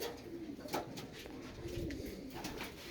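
A Saudi Arabian capped pigeon, apparently kept in Makkah, gives soft, low, rolling coos in a steady series, faint and fairly close, over quiet background noise.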